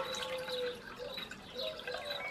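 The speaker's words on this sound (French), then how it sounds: "on va la mettre dans la passoire pour qu'elle s'égoutte tranquillement" Freshly washed wool draining in a colander, water dripping and trickling steadily at low level with a few faint splashes, alone without talk.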